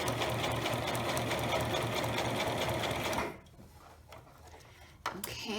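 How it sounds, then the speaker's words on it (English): A sewing machine stitches fabric for an eyeglasses pouch, running in a steady rapid rhythm for about three seconds before stopping, followed by quieter handling noises and a brief clack near the end. "continue stitching all the way down"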